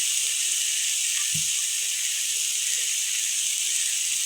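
Water hits a hot pan of sautéed jackfruit curry and sets off a loud, steady, close hiss and sizzle that carries on unbroken for the whole stretch, with no voices over it.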